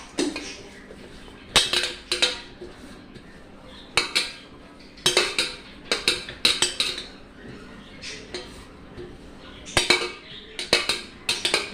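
Refined oil is rubbed around a bell-metal plate by hand, producing bright metallic clinks and scrapes in irregular bursts with short quiet gaps, close and fairly loud.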